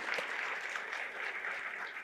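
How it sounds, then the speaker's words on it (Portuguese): An interview audience applauds steadily, a soft, even wash of many hands clapping at moderate distance, continuous for the whole stretch with no speech over it. "uma salva de palmas para o Júnior Neves e para a Liana"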